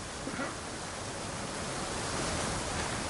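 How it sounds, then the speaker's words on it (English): A big waterfall rushes in Assassin's Creed Odyssey's Atlantis story on PS5, a dense, unbroken roar of falling water filling the whole moment without any talk. "There's a big waterfall"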